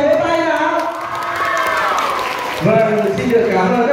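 At a summer catechist quiz-style golden bell event in Ba Làng parish, a crowd cheers and shouts loudly, with a few claps mixed into the sustained, lively noise of voices.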